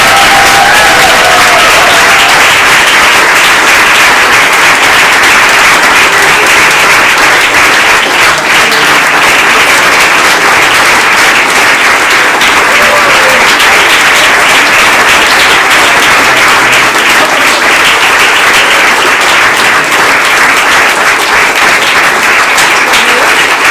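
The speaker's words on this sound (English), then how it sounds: "So I think they all really deserve another huge round of applause" A large audience at a New Order member ceremony gives loud, sustained applause, dense clapping holding steady and close throughout without a break.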